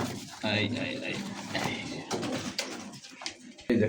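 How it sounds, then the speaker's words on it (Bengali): Pigeons at a market cooing close by, soft throaty coos mixed under steady conversation from several people talking throughout. "দেখেন এটা বাচ্চা কবুতর"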